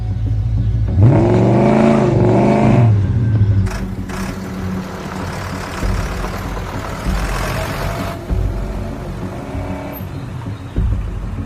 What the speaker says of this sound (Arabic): دعاس بنزين، دعاس أكتر.